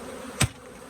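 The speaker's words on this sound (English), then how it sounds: "Nice lot of bees though" Honey bees from an opened hive, its roof set upside down on the ground, hum steadily in the background, with one louder buzz as a bee passes close to the microphone.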